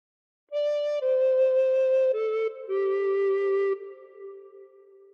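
A recorder plays a short phrase of Amazing Grace, several clear sustained notes stepping downward in pitch, close and alone, with the last note fading out.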